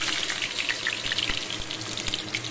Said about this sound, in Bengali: আলুগুলো আমি আগে প্রথমে ভালো করে ভাজা করে তুলে নেব